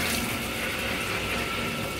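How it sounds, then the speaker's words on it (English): Hot water running steadily from a boiler-fed tap, a constant hissing gush with no breaks. "I'm just going to run the hot water"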